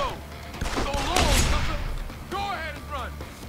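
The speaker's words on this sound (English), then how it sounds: "I forgot this is a shotgun." A shotgun fires in the game Deus Ex: Human Revolution, giving a few close, heavy blasts in quick succession while a voice talks over them.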